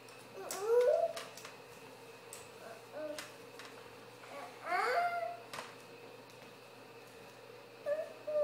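A puppy gives several short high whimpers and squeaky cries in separate bursts, close and fairly quiet, with faint ticking in the background.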